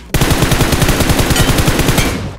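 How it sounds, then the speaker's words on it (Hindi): Automatic gunfire in the BGMI (PUBG Mobile) battle royale game rattles out as one loud, close, sustained burst of rapid evenly spaced shots lasting about two seconds before cutting off. "लेकिन उतने में इसका टीममेट नीचे से गोली चलाता है।"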